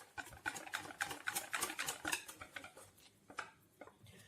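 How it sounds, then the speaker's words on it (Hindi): Egg 65 batter with a little oil mixed in a bowl: a quick run of rhythmic spoon strokes, scraping and clinking against the bowl, close and alone, slowing toward the end. "इसे भी मिक्स कर लें।"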